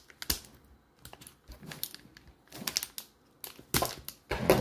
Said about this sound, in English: So what I do is I just take a knife. I'm going to cut this really quick so I don't